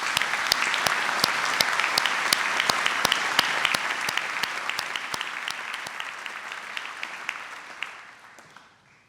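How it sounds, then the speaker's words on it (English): A large audience at a University of Manchester graduation ceremony applauds the graduands in a dense, steady wash of clapping that holds for several seconds, then gradually thins and fades away at the end. "I think they deserve a round of applause for that."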